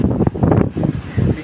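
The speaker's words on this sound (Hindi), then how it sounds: "वहाँ पर देखो बहुत ही तेज हवा दे रहा है, बहुत तेज" Strong cyclone winds in Purulia, West Bengal, buffet the microphone in loud, gusty bursts with rumbling rushes and brief lulls.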